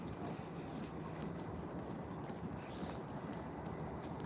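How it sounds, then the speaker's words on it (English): Wind blows at Disney's Boardwalk Resort at sunrise, a steady broadband rush with microphone buffeting, low and continuous with slight gusts, no talking. "It's windy"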